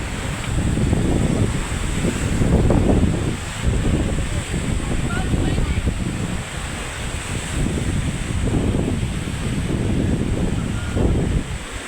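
Big sea waves surge and wash in heavy repeating swells at open sea, loud and continuous with strong wind buffeting the microphone and a boat on the water.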